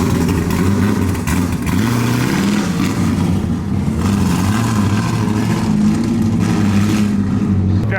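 An LS-swapped Mazda Miata without power steering drives along with a loud, steady V8 rumble and rising and falling revs, continuous and close throughout.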